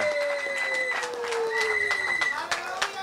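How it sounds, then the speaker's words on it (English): A political rally crowd claps and cheers for a newly returned Labour constituency candidate, a steady patter of hands under sustained whistle-like tones and calls that rise and fall throughout. "Can you give him a round of applause, please?"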